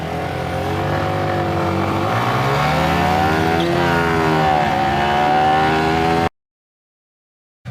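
Two Yamaha R15 V3 motorcycles, one BS6 and one BS4, drag racing: loud, close engines rev hard with rising and falling pitch through gear changes, then cut off abruptly.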